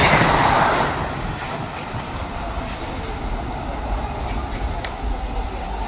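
Vande Bharat express train rushing past at speed, a loud steady rumble and rattle of rolling stock that stays close throughout, slightly louder at the start.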